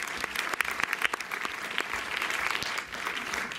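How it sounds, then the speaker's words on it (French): A cinema audience at a film talk at the Méliès claps steadily, a moderately loud burst of many hands with distinct individual claps, continuing throughout with little variation. "Au passage, on peut aussi applaudir Emmanuel et Nicolas du GC Distribution"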